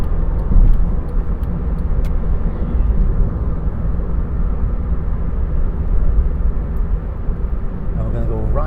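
A car pulls up through the gears in busy traffic approaching a fast roundabout, its engine a steady rumbling drone with road noise throughout and a faint rising whine near the end.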